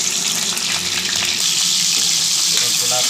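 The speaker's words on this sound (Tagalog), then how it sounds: "Prito lang natin mga idol itong patatas para sa ating kalderita" Potato pieces frying in hot oil for chicken kaldereta, a loud, close, continuous hiss and sizzle with a faint bubbling texture throughout.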